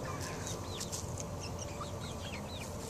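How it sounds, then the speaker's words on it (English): Barred Plymouth Rock egg-laying hens cluck and chirp softly in short bursts, scattered over a steady outdoor background hum, with no voices. "Those are my egg laying hens on the other side."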